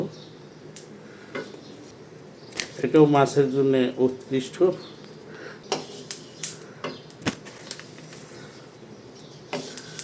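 Cardamom pods being fried in a pan while making sweet fishing bait give off scattered clinks and scraping stirs, close and fairly quiet, as a person talks over them.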